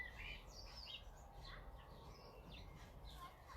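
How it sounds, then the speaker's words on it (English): Birds chirping in a garden, with repeated short, bright tweets and calls spread through the clip, faint and at a moderate distance over a low ambient rumble. "I can hear the birds chirping."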